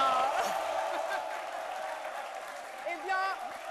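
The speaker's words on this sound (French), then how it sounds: "vous avez raison d'applaudir de la sorte" A television studio audience on a midday talk show applauds alongside scattered whoops and excited voices, a moderate, crowded din with people talking throughout.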